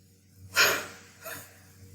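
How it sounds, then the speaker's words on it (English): A huff breathing exercise after surgery: a forceful, breathy exhale after a deep breath, followed by a second softer huff, close and clear. "then you're going to huff when you're blowing out like this."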